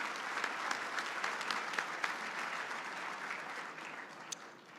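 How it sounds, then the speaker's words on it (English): A conference audience applauds its sponsors: a broad, even wash of many hands clapping at a distance, sustained throughout and fairly soft. "big round of applause?"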